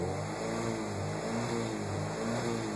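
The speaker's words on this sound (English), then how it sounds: "see it's cutting every 30 milliseconds. It's cutting in at 3080 RPM and then resetting." Alfa Romeo 75 Twin Spark engine with Motronic 4.1 revved while stationary against a soft rev limiter set near 3080 RPM, producing a loud, steady buzzing drone broken by rapid, regular cut-outs.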